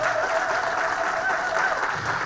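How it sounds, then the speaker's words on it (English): Steady, sustained applause from an audience at a Selma town hall on restoring the Voting Rights Act, a dense wash of clapping that fills the whole stretch at an even level with no voices above it. "Give Ari a round of applause."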